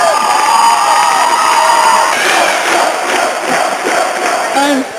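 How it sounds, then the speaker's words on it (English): A crowd cheers and shouts for the cheese maker, loud and continuous for the full length, with a shift in the mix of voices partway through. "you owe one person a big round of applause, and his name is Joseph Stefano"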